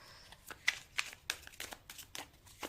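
Tarot cards are shuffled close by, with soft rustling and sharper slapping clicks in an uneven rhythm, quiet and with no speech.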